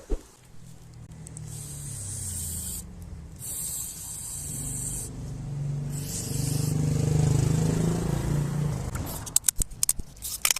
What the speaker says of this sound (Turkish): Kontak spreyiyle bu şekilde temizliyoruz içinde herhangi bir pislik varsa çıksın diye